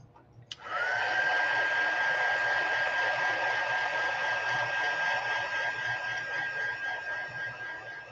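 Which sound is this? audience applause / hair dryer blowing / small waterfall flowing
hair dryer blowing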